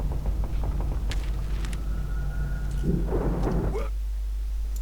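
A thunderstorm rumbles low and heavy in the Alan Wake game, a steady rolling roar with rain beneath it, near and fairly loud, while faint indistinct sounds flicker over it.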